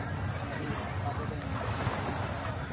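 Surf washing onto a Lake Michigan beach, a steady broadband wash with wind noise, continuous and fairly loud with no distinct individual breakers.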